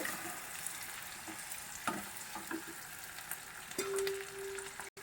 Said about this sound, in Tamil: கருவேப்பிலை எல்லாம் போட்டு தாளித்து